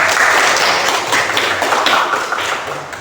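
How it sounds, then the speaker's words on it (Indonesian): Students in a classroom applaud together, a dense, loud patter of clapping hands that holds steady and then tapers off slightly toward the end, with no speech. "tepuk tangan."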